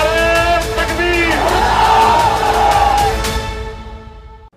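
A large crowd at a political rally led by Asaduddin Owaisi roars the Nara-e-Takbir slogan, a loud massed shout of voices rising together, holding for about three seconds, then fading away into silence.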